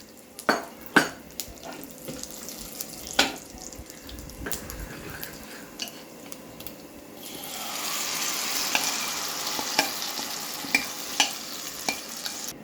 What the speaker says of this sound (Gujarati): સફેદ તલ થોડા વધારે પ્રમાણમાં નાખજો અને તૈયાર કરેલું ખીરું નાખી દઈશું